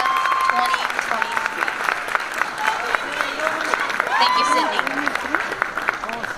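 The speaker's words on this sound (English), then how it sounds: "Give us one final round of applause for Sydney as she" Pageant audience applauding with scattered cheers in a hall, a dense, steady wash of clapping that carries through with a whistled or shouted rise near the end, while an announcer's voice runs over it.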